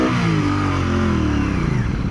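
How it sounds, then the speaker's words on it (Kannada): A 2025 Royal Enfield Bear 650 exhaust revs close by, a loud, throaty burst of engine note that swells and then eases back within about two seconds, heard alone. "ಎಕ್ಸಾಸ್ಟ್ ಕಳಿಸ್ಕೊಡಿ ಹೆಂಗಿದೆ ಅಂತ"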